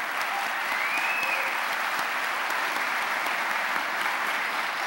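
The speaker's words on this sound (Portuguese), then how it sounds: "Palmas para o povo brasileiro." A seated audience applauds the Brazilian people during a talk session with the writer Ariano Suassuna, a steady, even wash of many hands clapping that holds for about five seconds at moderate distance with no voices over it.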